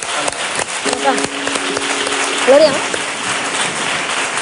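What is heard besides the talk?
audience applause for the maestro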